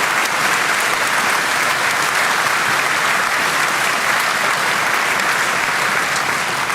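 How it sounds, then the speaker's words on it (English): A crowd at a Reform UK local election tour event in Basingstoke gives Charlotte and George a loud, sustained round of applause, dense and close, with no one speaking over it. "can I get a round of applause for Charlotte and George"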